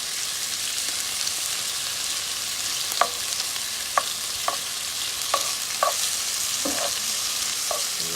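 Food fries in a large pot while being stirred, with a steady sizzling hiss and a spoon scraping and knocking against the pot every second or so.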